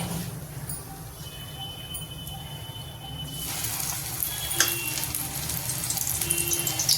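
Spinach pakoras fry in oil in a kadai with a steady close crackling sizzle that swells louder and brighter partway through as a fresh batch goes into the hot oil, with no talking.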